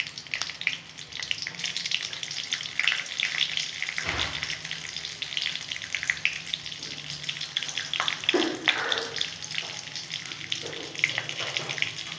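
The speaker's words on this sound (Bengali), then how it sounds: "একটু তেল দিয়ে নেবো, বেশি দেবো না, যেহেতু আলু বেগুন তো ভাজাই হয়ে গেছে বন্ধুরা। কালো জিরা দিয়ে দিলাম।" Nigella seeds sizzle and crackle in a small amount of hot oil in a pan after aloo and begun have been fried, a steady close frying hiss with occasional stirring scrapes and no talking.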